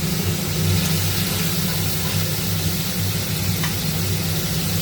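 A steady, loud frying sizzle of vegetable curry with potato and cauliflower in a pan fills the clip, a continuous hiss with a low hum underneath and no talking.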